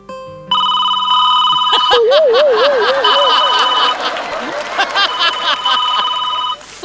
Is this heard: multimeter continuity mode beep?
no